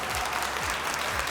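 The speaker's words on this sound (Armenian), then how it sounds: "կխնդրեմ իրենց եւս ծափարել" Audience applause fills a talent show gala hall, a dense steady wash of clapping from a large crowd with no break through the short stretch.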